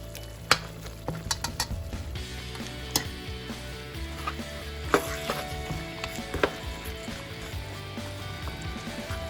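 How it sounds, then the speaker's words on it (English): Chicken curry sauce simmers in oil with spices in a pan, a steady bubbling sizzle broken by scattered sharp clicks and scrapes of stirring, close and fairly loud, with no one speaking. "I have been cooking the sauce for about, I don't know, 5 minutes, just to get the oil out of all the spice"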